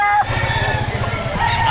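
Rooster crowing at an open-air chicken market in Lipa, Batangas, with low rhythmic clucking and market noise around it; a continuous, fairly loud crow runs through the short stretch.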